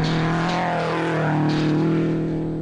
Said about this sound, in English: You hear a little bit of bodywork rattling and getting a little bit loose there.